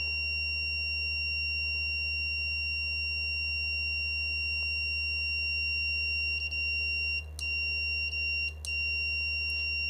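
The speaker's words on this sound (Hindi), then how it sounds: "अब हम यहाँ पे पुश बटन को जैसे ही प्रेस करेंगे तो हम बजर साउंड करेगा" A wireless doorbell buzzer sounds when its push button is pressed, giving a steady loud electronic tone that runs unbroken through the whole stretch, with a few faint clicks near the end.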